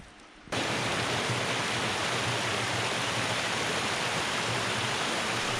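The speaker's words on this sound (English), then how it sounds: "Babbling sound of the close-up of the lower part of the waterfalls." The lower part of a woodland waterfall in springtime babbles close up, a loud, steady wash of rushing water that starts abruptly after a brief quieter moment and continues unbroken with no voices.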